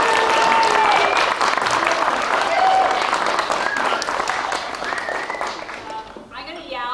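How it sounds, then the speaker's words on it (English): Audience at an outdoor walking-tour wrap event at Evergreen Brickworks applauding, a dense, loud wash of many hands clapping and cheering that gradually tapers off toward the end. "Please give a round of applause to Kate Watanabe, who's joined"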